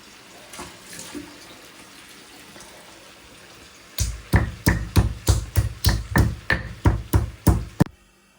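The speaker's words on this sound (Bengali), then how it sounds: "এই যে মশলাটা বেটে নিচ্ছি।" A spice paste for a hilsa fish and banana curry is ground by hand on a stone. After a few seconds of near silence, about a dozen steady, close, rhythmic grinding strokes follow, with no talk.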